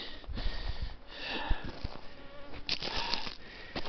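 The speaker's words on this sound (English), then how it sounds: "Bugs are really irritating." Bugs buzzing close around a camera lens during a shady forest ridge hike in Angeles National Forest, a faint fluttering whine with soft taps and rustles, no talking.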